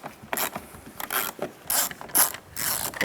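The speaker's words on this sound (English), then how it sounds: "Using a 7mm socket, take this screw out." A ratchet fitted with a 7mm socket backs out a screw on the driver side mirror of a Dodge Durango, giving close, loud bursts of rapid clicking in about six short strokes with brief pauses between them.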